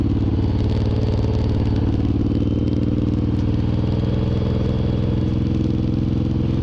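A Suzuki M109R cruiser motorcycle rolls along at about 25 mph, its engine a loud, steady, throbbing low rumble with constant road and wind noise heard from the rider's position.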